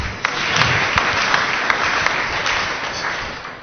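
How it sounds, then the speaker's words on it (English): Applause rises from a group at a church teaching, a steady even wash of clapping with a few sharper claps standing out, no talking over it. "Clap for us."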